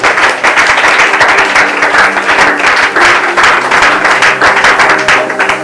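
A church congregation applauding during a Bible teaching: dense, sustained clapping from many hands, loud and continuous throughout.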